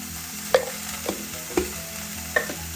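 Chopped onion, chilli, garlic and turmeric sautéed in a pan, a soft steady sizzle broken by several distinct stirring scrapes of a spoon, close by with no talk.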